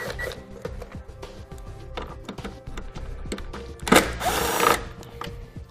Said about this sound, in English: we have two Phillips screws to remove in order to get the taillight assembly